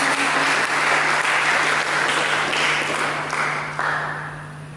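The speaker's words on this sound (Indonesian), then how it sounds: "Mari kita berikan tepuk tangan bagi Tuhan." A church congregation applauds continuously during a worship service, loud and full at first, then slowly thinning out toward the end.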